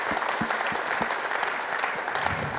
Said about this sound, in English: I think a huge round of applause to Mark for that session